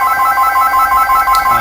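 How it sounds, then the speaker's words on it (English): A telephone rings with a steady, repeating electronic warble, loud and close, with no voices over it. "their phone is ringing again"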